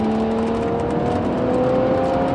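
Audi S4 engine in sport mode, a steady, loud drone with a sustained whining tone, heard from inside the car without voices.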